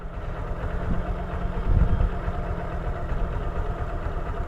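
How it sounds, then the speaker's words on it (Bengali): A scooter on a very steep hill, its wheel spinning in place, gives a steady close engine drone that swells briefly partway through, with no voices. "এক জায়গায় গাড়ির চাকা ঘুরতেছে স্কুটি নিয়া"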